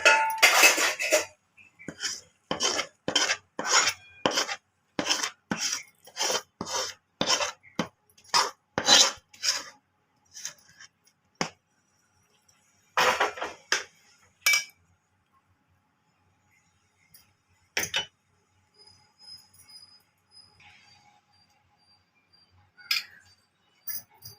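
Thick Mysore pak mixture scraped from a pan into a tray, a rapid series of rhythmic metal-on-metal scrapes and clanks that slows and thins out into sparse, separate knocks.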